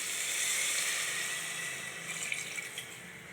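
Rice-washing water poured into crab masala in a pressure cooker, making a steady, close splashing pour that gradually eases off, with no talking over it.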